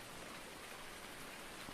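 Steady, dense rain falls in Farming Simulator 19 on Marwell Manor Farm, a faint continuous hiss of drops with no other sounds.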